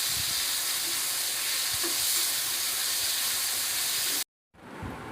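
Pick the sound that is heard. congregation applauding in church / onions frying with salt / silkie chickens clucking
onions frying with salt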